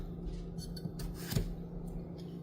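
A knife slices the ends off a cucumber on a cutting board, giving a couple of brief, close cutting clicks over quiet background noise.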